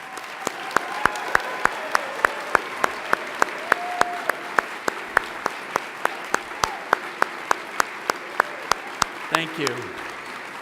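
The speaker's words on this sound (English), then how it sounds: "Let's give them a round of applause." Applause for children being honoured at a Kiwanis Club Terrific Kids awards gathering, a steady patter of clapping punctuated by loud, sharp individual claps close by, while people speak faintly underneath.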